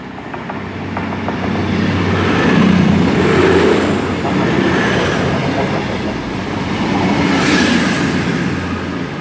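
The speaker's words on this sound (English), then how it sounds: "passing through now is a service from Paignton to Manchester Piccadilly" A passenger train from Paignton to Manchester Piccadilly rumbles through Torre station, a loud, steady roar with faint wheel clatter swelling and easing as the carriages pass close by.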